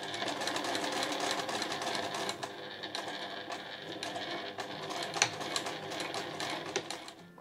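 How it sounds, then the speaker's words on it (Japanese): Sewing machine backstitching the end of a seam on a small fabric drawstring pouch, a continuous fast mechanical whirr and rattle that dips briefly mid-way, close and fairly quiet, no talking. "最後のところは縫い目を重ねて返し縫いします。"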